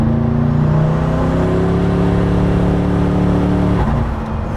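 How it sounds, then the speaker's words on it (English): A Koenigsegg Regera hypercar accelerates hard with a loud, rising engine drone, then the tone drops off near the end as the turbo blow-off valve releases. "that turbo sound coming off, that blow-off valve is like, whoa"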